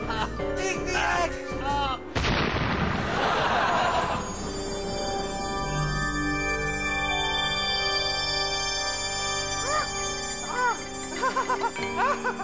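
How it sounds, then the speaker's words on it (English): A comic explosion sound effect hits suddenly as a character named Pliny blows up, a loud broadband blast lasting a couple of seconds, set among ringing musical tones and voices. "You have exploded."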